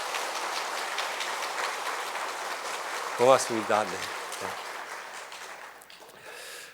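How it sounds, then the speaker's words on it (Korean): A church congregation claps in blessing for a young man entering the Marines tomorrow, a steady wash of applause with a brief spoken thanks from a nearby voice partway through. "여러분 축복의 박수 해주시면 좋겠습니다"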